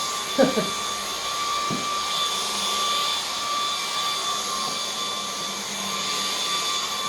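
A MOOSOO or Dreametech battery-powered cordless vacuum cleaner runs with a steady, moderately loud motor whine. A couple of brief knocks sound near the start.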